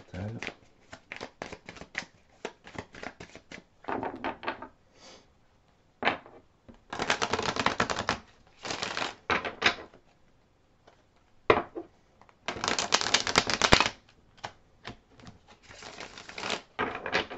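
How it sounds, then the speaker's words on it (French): A deck of tarot cards shuffled close up in a series of quick, crisp riffling bursts separated by short pauses, with a faint voice murmuring in between. "je vais battre votre jeu de cartes à vous"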